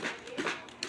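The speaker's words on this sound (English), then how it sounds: "sorry if you hear, that is my dog" A pet dog locked in its cage whimpers nearby, giving a few short, soft, high whines in quick succession with brief pauses between them.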